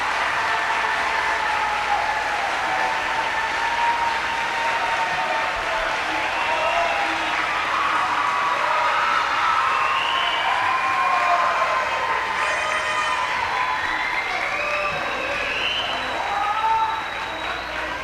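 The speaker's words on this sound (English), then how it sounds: "Graduates, please stand up and provide a huge round of applause for those who have supported you through your 13" A graduation ceremony crowd applauds and cheers, sustained dense clapping throughout with whistles and raised voices rising over it, holding steady before tapering near the end.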